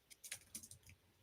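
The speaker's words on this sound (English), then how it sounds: "What kind of keyboard are you typing on, Molly?" Fingers tap a small computer keyboard in a rapid, faint run of light clicks, close and quiet with no voices.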